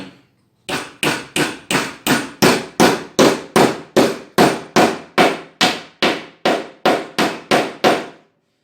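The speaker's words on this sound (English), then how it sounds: "then you hammer it down into the handlebar again" A nail is driven into the handle of a Viking shield with about seventeen evenly spaced, sharp hammer blows in a steady rhythm, close and loud, each blow ringing briefly before the next.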